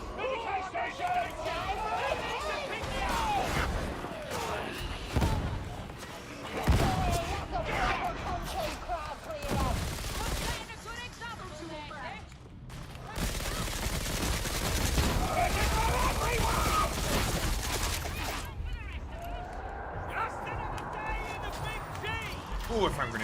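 Enemy gunners firing in Darktide, sustained rattling bursts of automatic gunfire mixed with dense game action and effects, loud and continuous, with a voice talking over parts of it.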